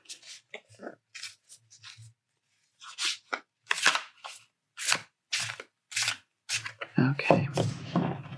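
Tarot cards being shuffled, a run of crisp riffling and tapping bursts with short pauses between them, close and fairly quiet, growing denser toward the end.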